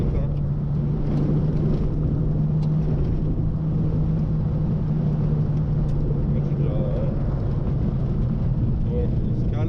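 Renault Super 5 TL with a 1.4 engine at full throttle, a loud, steady low rumble and drone heard from inside the car for about ten seconds, with road noise mixed in.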